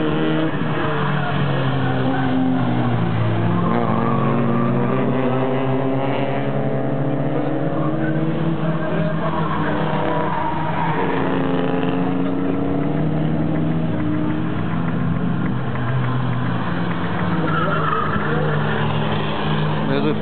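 Race cars corner on a track, with a steady loud roar of engines and tires running continuously throughout, heard from close by.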